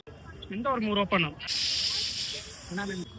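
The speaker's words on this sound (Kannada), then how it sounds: "ಬೆಣ್ಣೆ ದೋಸೆ ಹಾಕ್ತಾ ಇದ್ದಾವೆ ನೋಡಿ." Butter dosa batter sizzles on a hot griddle in Davanagere, a loud steady hiss rising abruptly and holding for over a second while someone talks before and after.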